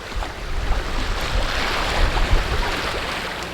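Wind rushing past a sailboat under way near Milos, Greece: a steady, loud roar of wind buffeting the microphone, mixed with the wash of water along the hull, with no voices.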